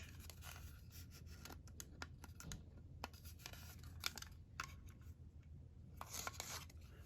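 A craft punch pressed through a paper tag to cut a scalloped-edge shape, heard as a faint scatter of paper rustles and small clicks, with one sharper snap partway through, in a quiet room.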